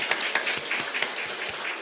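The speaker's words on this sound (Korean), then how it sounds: "먼저 박수로 환영을 좀 할까요?" Small church congregation clapping to welcome a newcomer during a Sunday service: a brief patter of scattered hand claps, moderately near and fairly soft, lasting under two seconds.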